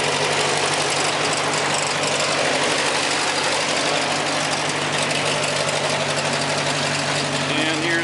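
A 1956 Ferguson F40 high-clearance tractor with a Continental Z134 engine idles steadily at close range, a continuous even rumble running the whole time with no speech over it.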